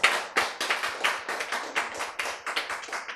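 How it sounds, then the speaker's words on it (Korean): Applause from an audience at a Korean-language Bible lecture: many hands clap together in a dense, lively patter, loud and continuous throughout. "박수."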